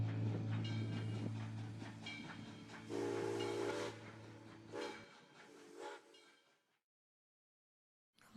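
A steam train rumbles and hisses with a long, drawn whistle, then chuffs and fades away into silence.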